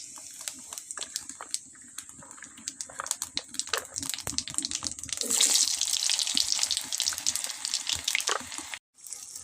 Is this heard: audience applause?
no